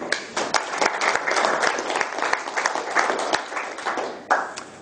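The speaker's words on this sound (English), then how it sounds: "Give yourself a round of applause." Seminar audience claps together in a brisk round of applause, a steady patter of many hands at moderate loudness with a few sharper claps standing out.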